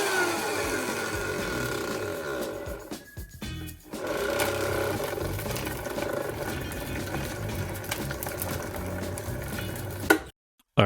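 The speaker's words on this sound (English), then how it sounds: "this caused my very expensive professional grade Vitamix to overheat and stall out about 6 times before I got everything blended to the right consistency" A professional-grade Vitamix blender churns fish, shrimp and ice into a paste, a loud, dense grinding whir that briefly dips around the middle, then runs on before stopping abruptly.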